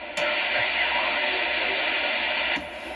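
A steady, loud hiss of static from a TRAM D300 CB base station with a tone underneath, switching on abruptly and cutting off after a couple of seconds.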